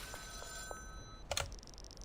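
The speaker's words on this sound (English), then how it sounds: "let's talk to Uncle Nelson at a payphone" A payphone in the video game Schedule 1 rings with thin electronic trills, a few short rings then a brighter burst near the end, fairly quiet over a faint hum.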